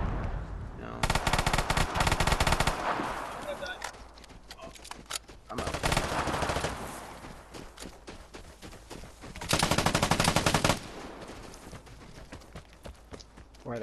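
Rapid machine gun bursts in a first-person shooter game, loud volleys of several seconds each separated by quieter gaps with scattered shots, with players talking over the action.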